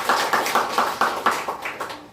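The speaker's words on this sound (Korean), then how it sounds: "박수 한번 주시죠." A church congregation at a founding thanksgiving service claps in unison, about nine even beats in a steady rhythm that fades slightly toward the end.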